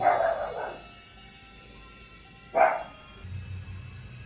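A dog barks in the horror video game Infested, two short separate barks about two and a half seconds apart over a low game drone, with no talk.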